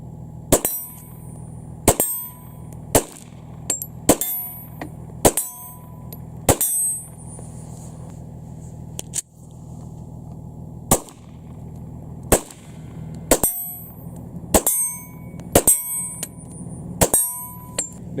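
Glock pistol fired at a shooting practice session, roughly a dozen sharp, loud reports at uneven intervals of one to two seconds, each a crisp crack with a short ringing tail over steady low background rumble.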